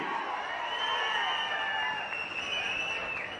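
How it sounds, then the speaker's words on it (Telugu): A large crowd claps in sustained, dense applause at a political gathering addressed by Chief Minister Chandrababu Naidu in Banaganapalli, Nandyal; the clapping is steady and fairly loud throughout. "గట్టిగా చప్పట్లు కూడా చెప్పండి, అభినందించండి."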